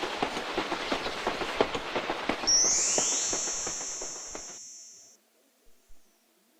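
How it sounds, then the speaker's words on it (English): A pink train car chugs down the track with a steady, rapid clickety-clack rhythm, then a bright, sustained whistle blast rings out over it for a couple of seconds before everything cuts to near silence. "The pink train car chugs down the track."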